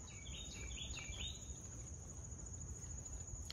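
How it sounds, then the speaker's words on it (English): Faint bird chirps and tweets over a constant outdoor insect drone, with a soft background hum. "Pretty birds sound today"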